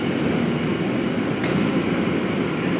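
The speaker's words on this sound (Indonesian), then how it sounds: "hati-hati kereta api melintas langsung." A train passes straight through a Jakarta commuter rail station without stopping, a loud steady roar of wheels and rolling stock that stays constant and close from start to finish.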